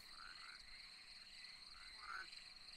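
A frog croaks in the horror game Loveland, set in a trailer park: a couple of faint croaks over a steady high-pitched ambient drone, quiet and with no clear speech.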